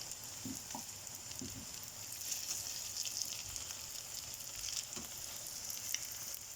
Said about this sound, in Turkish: Bu şekilde ekmeklerimi kızartmaya devam ediyorum.